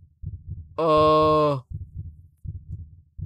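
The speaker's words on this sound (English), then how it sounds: "Why is my heart beating?" A video game heartbeat sound effect: a slow, even series of low thumping heartbeats, interrupted once by a loud, sustained bleating-like tone, with a brief spoken exclamation.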